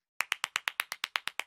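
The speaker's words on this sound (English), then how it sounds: "can I at least have some applause for my little poem" Clapping in the video game Garten of Ban Ban 4: about a dozen sharp, crisp claps at an even, brisk rhythm, close and clear with nothing else behind them.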